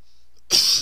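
A single sharp cough bursts out after a short quiet moment, close and loud, with no other sound around it.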